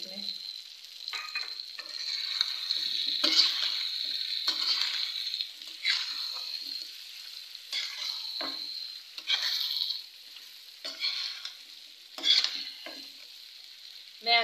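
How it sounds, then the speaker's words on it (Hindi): Mustard seeds dropped into hot oil for a spicy amla pickle crackle and sizzle steadily, with bursts of frying and occasional stirring, close and without talk. "और अभी ये राई डाल दूंगी मैं इसमें।"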